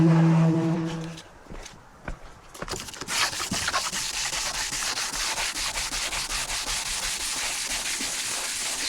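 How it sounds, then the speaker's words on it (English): Power sander rubbing across the sheet-metal body of a RAM Promaster van, a steady close abrasive whir running continuously after a brief low hum and a few knocks at the start. "I'm going to start sanding"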